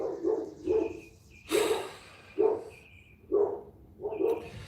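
Dogs bark indoors in about six sharp, moderately loud barks at an irregular pace, with snorting breaths between them.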